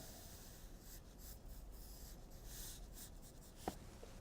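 A pencil scratches continuously across paper while a hook line is drawn for a Donald Duck sketch, faint and close, with one brief sharper tap near the end.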